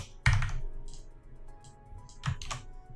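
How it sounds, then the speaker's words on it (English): Computer keys are struck in a couple of sharp clustered bursts of clicks and thunks, close and fairly loud, with quiet pauses between. "that would be the wrong combination of keys on the keyboard"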